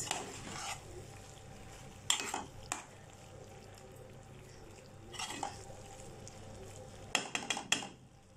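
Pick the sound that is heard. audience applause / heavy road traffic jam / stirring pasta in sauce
stirring pasta in sauce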